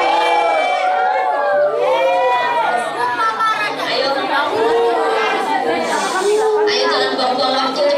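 A large crowd of school students chatters and shouts at a school leadership training event, a dense and loud wall of overlapping young voices with bursts of cheering throughout.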